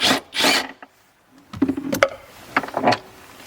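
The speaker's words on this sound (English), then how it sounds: "Now we're gonna use our 13 millimeter in order to remove this bracket here." A 13 mm socket wrench loosening the battery bracket on a 2011-2015 Chevy Volt during a 12V battery replacement, heard as a few short, close ratcheting and metallic clicking bursts separated by brief pauses.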